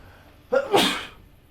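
A single loud sneeze, close by, with a quick intake of breath followed by a sharp burst that trails off into quiet.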